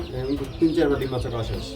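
Pigeons at a pigeon sale, cooing softly and warbling close by, mixed with a voice talking and other bird calls in the background.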